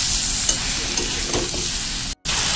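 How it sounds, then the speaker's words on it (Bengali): Fried eggplant with spices and salt is stirred in a hot pan for a vegetarian eggplant and pumpkin dish, giving a steady close sizzle with scraping stir strokes and a brief cut near the end. "দিয়ে দেবো স্বাদ মতো লবণটা দিয়েও ভালো করে নেড়ে নেবো আমি"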